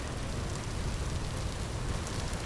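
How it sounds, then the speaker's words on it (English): Heavy rain in the survival game Vintage Story, a steady, even hiss of downpour filling the whole clip at low volume with no voices. "Rain's coming down hard now."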